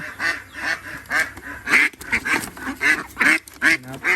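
A crowd of laying ducks on a farm quacks continuously in a dense, loud, overlapping chorus close by, harsh calls pulsing rapidly one after another with no speech.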